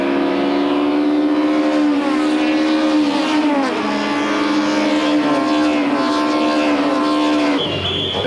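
Touring race cars, an Audi and an Opel Vectra, racing closely at Aldo Scribante circuit in 1996, with loud sustained engine roar and rising, shifting pitch as they pass, ending in an abrupt change near the close.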